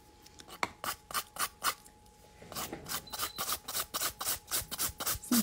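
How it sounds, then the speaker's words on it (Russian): A nail file rasps across the free edge of a nail to thin it during a gel manicure, giving a steady series of short, close strokes, sparse at first and then quicker and more regular. "Опил начинаем с поверхности свободного края, то есть мы сначала понижаем толщину."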